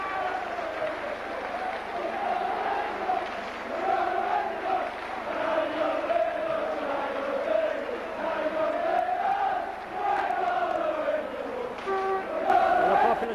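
Big rugby league playoff crowd on the Popular side, St Helens against Bradford, keeps up a loud, continuous roar of cheering and chanting from a packed terrace, swelling and dipping without a break.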